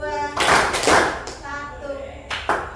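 A class claps in a rhythmic call pattern, bursts of claps under a teacher's spoken counting cues, close and lively in a classroom.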